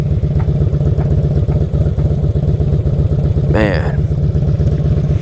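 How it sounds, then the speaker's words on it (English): A 1987 Honda Super Magna motorcycle with quad pipes idles close by in a steady, throbbing rumble that runs the whole time, with a voice speaking briefly over it. "we have the legend 1987 Honda Super Magna quad pipes"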